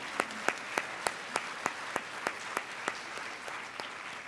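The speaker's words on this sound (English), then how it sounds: "Big round of applause for our panel." An audience applauds a discussion panel at an event, with sharp, evenly spaced claps ringing out in a steady rhythm over a soft wash of background clapping. No one speaks.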